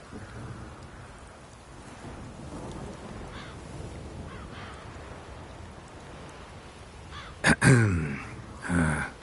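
Crows give a couple of short, harsh caws near the end, rising over a steady wash of rain and low rumbling in a Witcher 3: Blood and Wine game scene.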